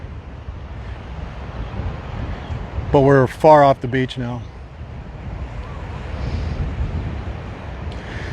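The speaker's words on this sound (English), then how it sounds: "Still very, very windy." Strong wind buffets the microphone at Waimanalo Beach, Hawaii, in a steady, rumbling roar, with a brief burst of a person talking partway through.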